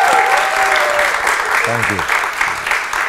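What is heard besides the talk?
audience applause welcoming a guest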